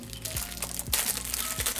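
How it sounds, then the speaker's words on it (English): Plastic packaging crinkles and crackles up close as a Supreme stamp is unwrapped, a brief, busy rustle with a few sharper crunches and no voices. "Might as well just take it out of the plastic."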